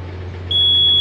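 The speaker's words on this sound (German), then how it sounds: "Das ist das Lichtmaschinengeräusch." A boat's engine alternator starts up with a sharp, steady high-pitched whine over the low hum of running engines, the whine coming in halfway through and holding loud and constant.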